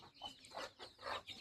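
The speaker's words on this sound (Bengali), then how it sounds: "এখানে মুরগি।" Chickens cluck softly and continuously in a rural village yard, a close, quiet stream of short calls.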